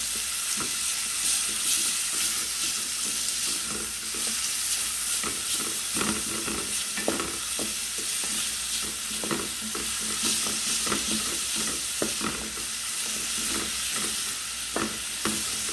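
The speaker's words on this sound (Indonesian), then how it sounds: "Nah ini dioseng-oseng dulu biar layu ya, bawang merah, bawang putih, jahenya sekalian aja digebruskan dimasaknya ya." Shallots, garlic and ginger stir-fried in hot oil in a home kitchen, giving a steady close sizzle with repeated scraping and clanking spatula strokes throughout and no talking.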